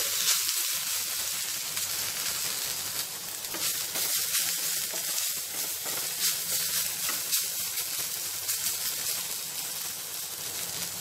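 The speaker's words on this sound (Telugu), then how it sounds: "ఈ పుదీనాను కూడా ఫ్రై చేసేసుకుందాము ఈ పచ్చిమిరపకాయలతో పాటు." Mint leaves and green chillies frying in oil for a mint-tomato chutney, a continuous close hissing sizzle with faint stirring scrapes and no talking.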